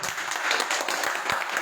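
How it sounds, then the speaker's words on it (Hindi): An audience at a poetry gathering applauds, a dense, even wash of clapping that holds steady throughout with no talking over it. "आपकी भरपूर तालियों में नज़मीना अदबी तंजीम के मेहमान बनते हैं जनाब सैयद सलमान गिलानी।"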